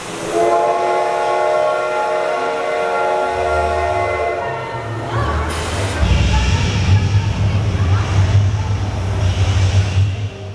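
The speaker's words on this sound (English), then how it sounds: "wizards know that steam trains look and sound cool" A steam train's whistle sings out over steady rumbling, then the heavy chugging and hiss of the engine grow louder and closer.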